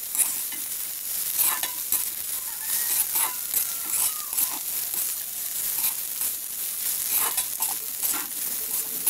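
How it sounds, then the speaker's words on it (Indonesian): Scrambled eggs stirred in a frying pan while they sizzle, with a steady frying hiss and repeated scraping strokes of a utensil throughout, close and continuous, no talking. "kembali mas tambahkan garam dan aduk-aduk kembali"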